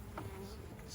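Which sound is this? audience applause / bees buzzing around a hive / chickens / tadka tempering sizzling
bees buzzing around a hive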